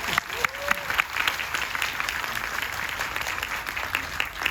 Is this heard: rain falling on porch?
no